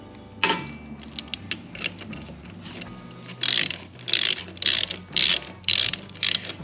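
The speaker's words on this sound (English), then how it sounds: "Okay, and then I just need to tighten these up." Ratchet wrench tightening 10mm bolts on the intake of a Honda Odyssey FL350 engine: rapid clicking bursts, one early sharp stroke then a run of five or six loud, evenly spaced ratcheting pulls, close and free of talk.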